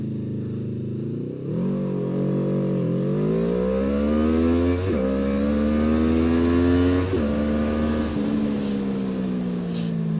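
A QJmotor SRV 600 motorcycle accelerates hard past a Kawasaki Ninja 400, its engine climbing in pitch through several gear changes with a brief dip at each shift, loud and close with wind rush, and no speech.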